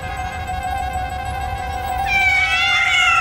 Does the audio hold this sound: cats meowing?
yes